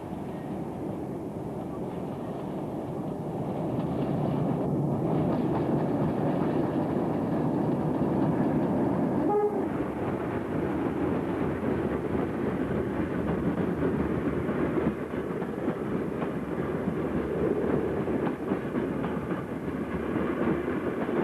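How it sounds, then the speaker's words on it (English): A British Rail Class 76 electric locomotive hauls a freight train of empty steel wagons steadily past Penistone for a long stretch, a heavy continuous roar of engine and rolling wagons with faint clattering, no voices. "The lone 76 passing Penistone is working at Trafford Park to Wath steel empties."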